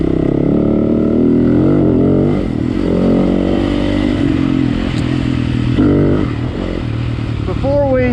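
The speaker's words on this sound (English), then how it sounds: "I'm riding my YZ 250FX" Yamaha YZ 250FX dirt bike running on a forest trail in Bankhead National Forest, with a steady engine drone that shifts in pitch through the clip. The rider talks over the noise.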